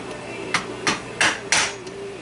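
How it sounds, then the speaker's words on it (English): Four sharp metallic hammer strikes on a nut of a McCulloch Super Pro 80 chainsaw ring out one after another at a quick, slightly uneven pace, close by, over a low background hum. "I gotta grab a hammer."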